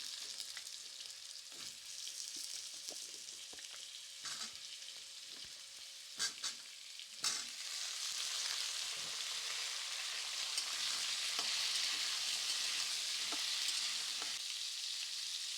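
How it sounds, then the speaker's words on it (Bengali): Cut potatoes fry in a pan over whole cumin seeds, giving a steady close sizzle that swells louder partway through, with scattered spatula clicks and stirring scrapes and no talk. "এবার কেটে রাখা আলুগুলো দিয়ে দেবো, দিয়ে একটু হালকা ভাজা ভাজা করে নেব।"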